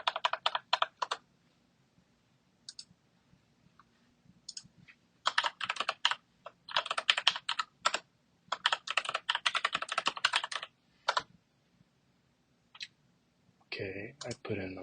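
Clicky keystrokes on a computer keyboard come in quick bursts and pauses as a password is typed, close and crisp, with a brief voice near the end.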